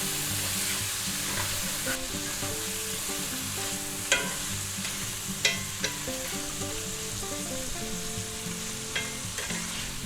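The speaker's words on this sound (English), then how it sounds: "Give them a quick stir." Frozen peas and carrots sizzle with shrimp in a pan of shrimp and roasted pork fried rice, a continuous frying crackle punctuated by a few sharp clinks of the stirring utensil over a faint steady background tune.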